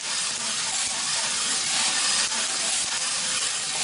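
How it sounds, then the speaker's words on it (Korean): Coffee beans hand roasted at first crack give a dense, steady hiss with fine crackle throughout, loud and close, with no voices. "콩을 볶는 것처럼 타락타락 튀면서 1차 클렉이 시작이 됐어요."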